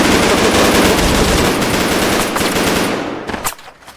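Loud sustained automatic gunfire during a military field training exercise on a breach drill, dense rapid bursts filling the whole stretch and tapering off near the end.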